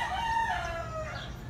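A neighbor's rooster crows once, a clear drawn-out cock-a-doodle-doo heard from some distance against a quiet outdoor background.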